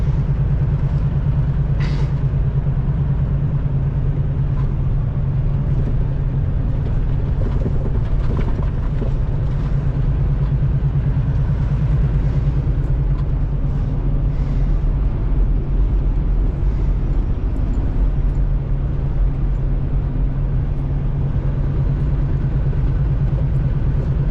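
A car travels a winding Colorado canyon road, with a steady low engine rumble and road noise droning continuously, close and fairly loud, with no talking.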